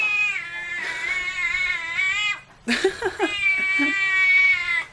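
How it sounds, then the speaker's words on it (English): A kitten gives long, loud, drawn-out yowling meows, nearly continuous, close up, with a brief pause and a few short squeaky sounds midway. "Dolph is one of our kittens that was born quite a few months back, and Dolph has the worst meow."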